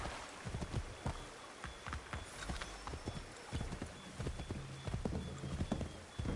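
Horse hooves clip-clopping steadily in the Assassin's Creed 3 video game, a quick repeated rhythm of hoofbeats close up over a busy game background with occasional other effects.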